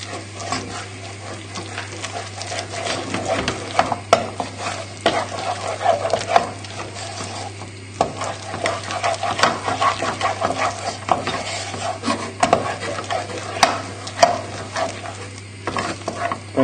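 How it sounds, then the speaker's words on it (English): Milk being stirred into mashed potato makes continuous wet, squelching stirring sounds with spoon scrapes and knocks against the pot, fairly loud over a low steady hum, with no talking. "And then just slowly stir it in."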